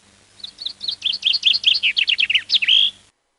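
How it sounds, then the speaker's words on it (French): Common chaffinch song from the Grésigne forest population: a clear, close series of descending trilled phrases that quickens and ends in a loud terminal flourish, heard alone over faint low background hum. "Le chant des pinsons de Grésigne."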